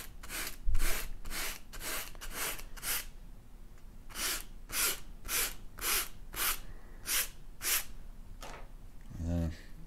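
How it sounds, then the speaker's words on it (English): Sandpaper rubbing back and forth across a liquid charcoal drawing, a run of close, steady rasping strokes in a regular rhythm. "if I take my sandpaper, maybe I can push it down a little bit."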